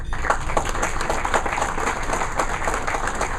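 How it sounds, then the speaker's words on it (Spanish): Warm audience applause greets a speaker at a tax-optimization talk, a continuous roomful of clapping at an even level throughout. "Recibamos con un fuerte aplauso al licenciado."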